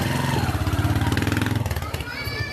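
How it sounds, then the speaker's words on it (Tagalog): Motorcycle engine running close by with a steady pulsing putter that fades off toward the end, while voices chatter over it. "Tabi, may motor."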